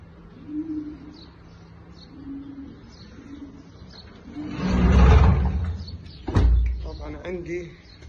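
Young French pigeons, about three to four months old, coo softly in a coop, with low murmuring calls and a louder burst near the middle, plus a sharp knock.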